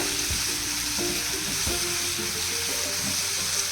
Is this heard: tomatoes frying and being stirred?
yes